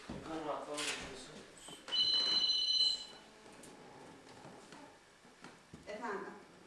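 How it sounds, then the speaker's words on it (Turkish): A mobile phone rings with a bright electronic tone lasting about a second, amid people chatting in the streets of Safranbolu. "Birinin telefonu çalıyor."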